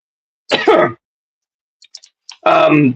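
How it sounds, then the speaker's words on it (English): A person clears their throat with a couple of short, harsh rasps, followed by a few faint clicks and then more throaty noise. "I'm going to have to clear my throat a few times"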